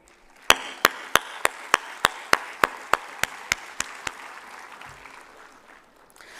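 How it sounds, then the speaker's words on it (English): An audience at a youth health consultation at AIIMS Rishikesh claps in unison: about thirteen sharp, evenly spaced claps in a steady rhythm that gradually weaken and then stop, with quiet room noise after. "kindly give a grand clap for yourself."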